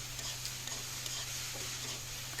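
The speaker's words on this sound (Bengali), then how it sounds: "আবার নাড়াচাড়া করতে থাকলাম" Okra frying in a pan is stirred, producing a faint, steady sizzle with light scraping and ticking from the utensil, quiet and close with no talk.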